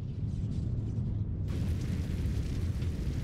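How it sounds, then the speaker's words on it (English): A radioactive explosion in Final Fantasy XIV sets off a deep, rumbling boom with a sustained roar, and a bright hiss swells in about halfway through before the noise holds steady. "I like that this radioactive explosion, no damage."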